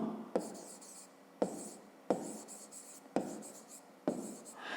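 A pen or pencil writes by hand on paper in five distinct bursts of scratching strokes, each starting with a tap, close and clear, during a 5th-grade maths exercise, with no speech.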